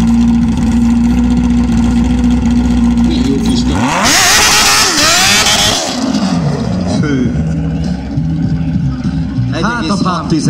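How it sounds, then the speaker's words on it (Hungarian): Loud engine noise throughout, with a 200-horsepower go-kart with a 1.6-litre engine revving up sharply and roaring past up close midway, then settling back under continuous background chatter. "Érkezik a Gokart egyedül."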